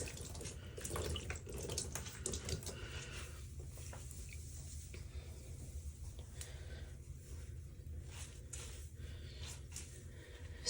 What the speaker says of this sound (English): We are simply squeezing that moisture out.